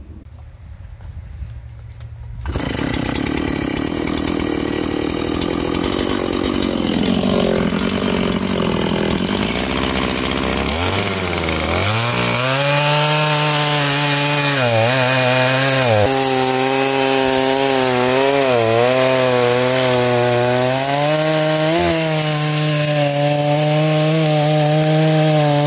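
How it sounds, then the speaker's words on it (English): A chainsaw cuts through a log held in a grapple, starting with a loud revving roar and settling into a sustained, heavy cutting drone with wavering pitch as the chain bites through the wood, close and continuous. "So I am still going to cut it."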